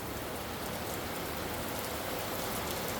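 Sudden summer rain pouring down over a parched garden, a dense, steady hiss of drops striking leaves and ground, loud and unbroken with no voices.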